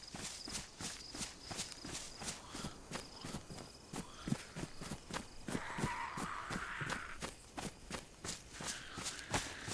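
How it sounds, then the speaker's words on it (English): Zombie footsteps in DayZ on Chernarus: a steady, rapid series of close footfalls all the way through, with a breathy rushing layer partway. "Was that zombie's footsteps you could hear?"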